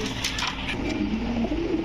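Soft, repeated cooing from racer, beauty and pouter pigeons kept for sale, close by under a noisy background with no speech.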